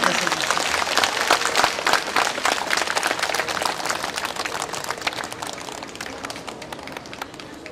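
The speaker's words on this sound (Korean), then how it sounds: "박수 한번 크게 쳐주십시오." Dense applause from a large crowd at a nationwide assembly of Korean Seon meditation monks, steady and loud throughout before easing slightly toward the end.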